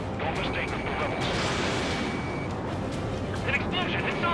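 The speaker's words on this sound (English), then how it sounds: "An explosion inside!" A dense explosion in the video game Ace Combat 7 rumbles with broad crackling noise and scattered sharp bursts, sustained and fairly loud throughout.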